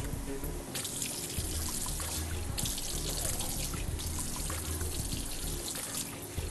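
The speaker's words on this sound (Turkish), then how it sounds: "yüzünü yıkamaya geçiyoruz" Water splashes and pours steadily as a face is washed after a shave, a continuous close trickling and sloshing at a sink with irregular splashes throughout, no talking.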